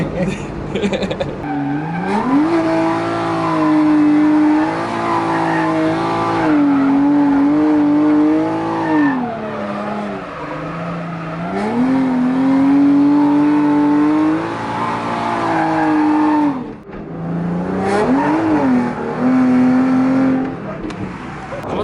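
An Audi S4 engine revs hard with rising and falling pitch as the car slides through drifts at a rally park, people talking over it from inside the car.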